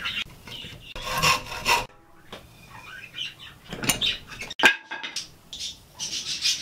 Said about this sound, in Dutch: En dat moet helemaal schuren zo